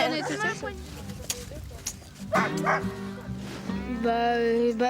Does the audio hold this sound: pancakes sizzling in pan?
no